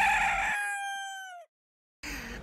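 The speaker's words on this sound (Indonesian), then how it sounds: "ayam, chicken." A single loud rooster crow rings out close by, its long final note trailing off into silence before another sound cuts in.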